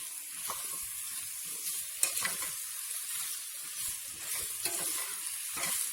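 A spoon stirs a bubbling stew of green beans and purslane in a pot just after salt and sugar go in, with a steady sizzling hiss and scattered scraping knocks against the pot.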